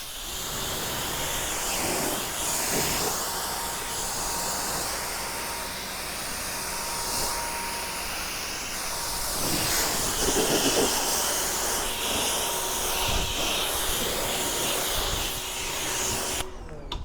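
A pressure washer rinses foam off a ceramic-coated car, a continuous loud hissing spray that swells and eases as the stream moves across the panels, with a faint steady tone underneath.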